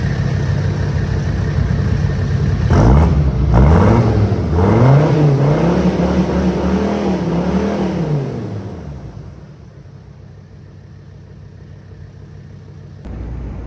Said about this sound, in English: We got a full custom straight pipe from the turbo back. Sounds pretty good.